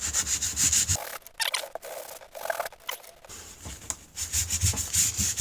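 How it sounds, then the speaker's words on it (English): A new deck of playing cards held together and rubbed on carpet, giving rough, steady scuffing strokes in bursts that stop briefly in the middle, close up with no talking. "You want to rub it on some carpet."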